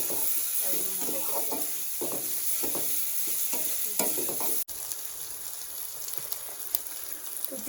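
Onions frying in a pan at home, a soft steady sizzle with repeated scraping stirs every second or so, fairly quiet and close, followed by a sudden drop in level then continued sizzling.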